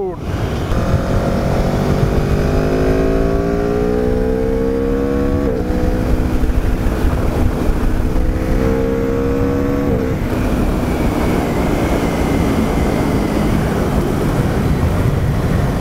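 A 2018 Aprilia RSV4RR sport motorcycle engine roars steadily while riding, climbing in pitch through several gear changes with brief dips, then settling into a loud constant drone under wind noise throughout.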